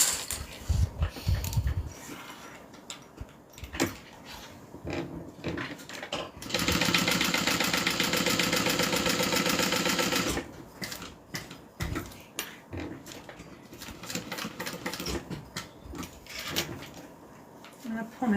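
A sewing machine stitching fabric pieces, a steady fast mechanical whir running for about four seconds in the middle, bracketed by clicks, handling noises and a person talking before and after.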